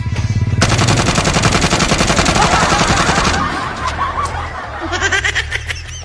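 Rapid automatic gunfire rattles loudly in a fast, continuous burst for several seconds, then gives way to scattered shots and laughter.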